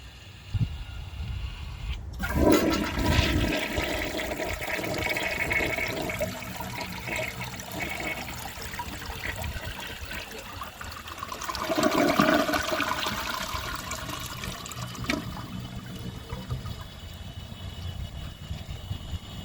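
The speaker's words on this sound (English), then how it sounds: "that dirt seems to have changed the flush pattern a little bit" A 1977 Kohler Highline toilet, with dirt in the system, flushes with a sudden rushing gush, then a steady churning roar of water, a second surge midway, and a long refill hiss. The sound is close and loud, with no talking.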